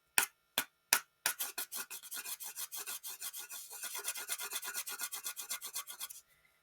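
A wooden stick rubbed to produce a theatre sound effect: a few separate scrapes, then a long steady run of quick rasping strokes in a regular rhythm, close and clear with no talking.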